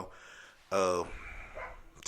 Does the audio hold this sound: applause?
no